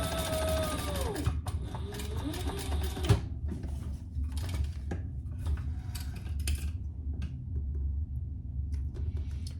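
Sewing machine stitching waxed canvas with burgundy thread, a rapid mechanical whir with clicking bursts, followed by quieter intermittent rustles and taps close by.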